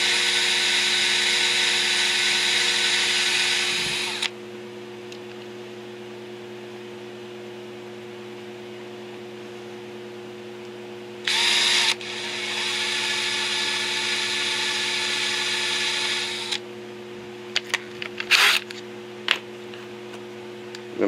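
A drill bores out rivet heads on a 1997 Corvette, the bit whining loud and steady in two long bursts over a constant electrical hum, followed by a few short clicks and taps.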